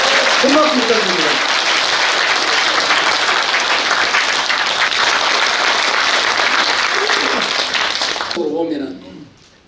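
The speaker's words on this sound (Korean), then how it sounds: "큰 박수 부탁드립니다." An audience at a town-hall meeting with a National Assembly member in Gimcheon, South Korea, gives a big round of loud, sustained applause lasting around eight seconds before cutting off, with a voice heard at the start and end.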